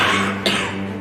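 One short, sharp cough bursts out close by over a steady background hum.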